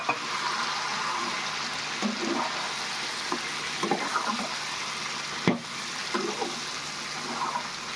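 Ginger, garlic, chili and tomato masala with a little cumin sautéing in a pan for spicy chicken kosha, a steady low sizzle and frying hiss with scattered stirring scrapes and one sharper knock near the end.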